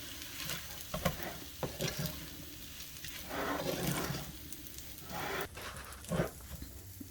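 Chicken fried rice sizzling in a pan while being stirred, a steady soft crackle of frying broken by repeated scraping strokes of the utensil, close and fairly quiet, with no speech.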